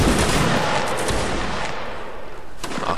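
Musket volley fired by a line of regiment infantry in a multiplayer video game battle, a dense, loud, roaring burst of overlapping gunfire that fills the whole moment before slowly thinning out.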